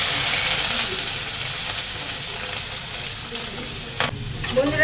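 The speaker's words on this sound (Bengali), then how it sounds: "ওলটা আমি তেলে ভাজছি, তেলটা একটু ভেজে নিচ্ছি।" Elephant foot yam frying in oil with five-spice and bay leaf, a dense continuous sizzle heard close and loud, with a few stirring scrapes near the end and no voices.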